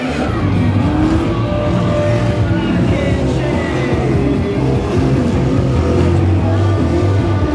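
Motorcycles race around the Daytona Speedway track at Bike Week, giving a loud, continuous engine roar with shifting pitch as they go by, heard from the stands.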